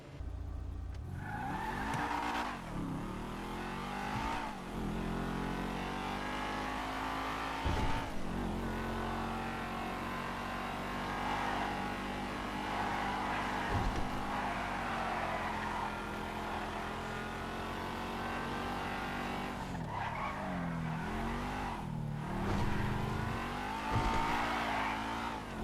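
A two-door GT convertible in a video game test drive revs and accelerates near, its engine note rising and falling through gear changes, with repeated tire squeals and skids during hard cornering and no talking.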